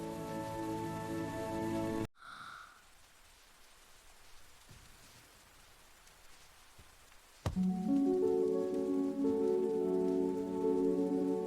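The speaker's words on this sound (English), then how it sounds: "Wow, it's really pouring out there." Heavy rain pours steadily on a dark, gray day, a dense hiss of drops striking surfaces that swells loud and close and runs on without a break.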